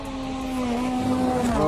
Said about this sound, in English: Best of flat out WRC Rally Finland